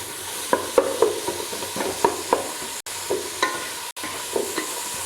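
Something browning in oil sizzles steadily while a spoon scrapes and stirs through it in irregular knocks, with brief dropouts in the sound; biryani base being fried, and no one speaks.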